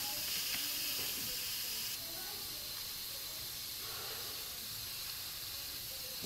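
Steady loud hiss of steam venting from an Instant Pot cooking bison meat, continuous and close, with faint talking underneath.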